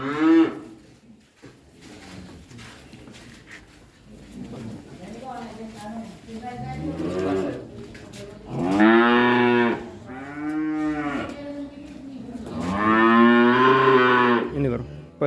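Cattle at the Sapipedia Wonogiri sale bellow in loud, drawn-out moos, first lower and intermittent, then two strong close calls, with people talking in between.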